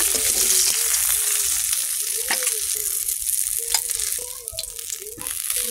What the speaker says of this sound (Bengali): মাছটা একটু ভাজা হয়ে গেছে